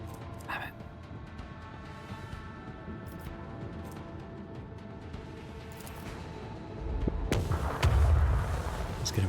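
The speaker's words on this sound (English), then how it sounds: "Unleash the storm of macro cannons" Macro cannons fire in space combat in the Rogue Trader video game, with distant low booms and rumbling over a droning ambient bed, swelling into a heavier barrage near the end.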